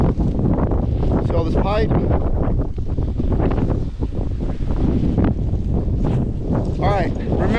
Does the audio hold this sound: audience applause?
no